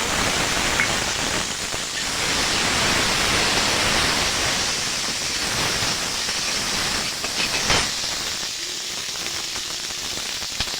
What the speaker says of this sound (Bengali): তেলের মধ্যে দিয়ে দেব আলু কেটে রাখা আলু লঙ্কাগুলো দিয়ে দেবো